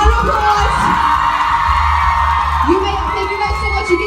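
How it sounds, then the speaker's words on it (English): A live audience in Freehold, New Jersey cheers, whoops and yells steadily and loudly for about four seconds, a dense crowd roar with no single voice standing out. "Round of applause."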